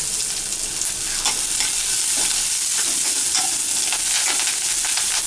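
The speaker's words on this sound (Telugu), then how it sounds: "ఉల్లిపాయ ముక్కల్ని పూర్తిగా వేపుకోకూడదు, లైట్గా వేపుకోవాలి." Onions fry lightly in a pan with curry leaves, giving a loud continuous sizzle with occasional soft scraping stirs, close and steady throughout.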